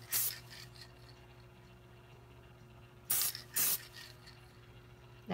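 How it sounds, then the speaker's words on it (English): Spray glue hisses onto glitter in three short bursts, one near the start and two close together later, followed by the start of a fourth at the very end, with a faint hum between them. "you go ahead and hit it with the spray glue"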